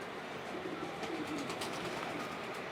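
VCP breed pigeons cooing in a loft, soft repeated coos over a steady airy background hiss, close but fairly quiet, no talking.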